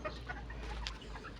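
Soft, scattered clucks from hens over a steady low hum, fairly quiet and continuous with no voices.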